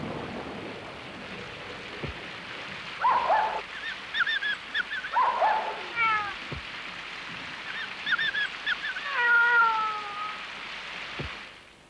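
A few dog-like yelps and whimpering cries with harmonic meow-like calls, scattered over about twelve seconds against a faint hissing background.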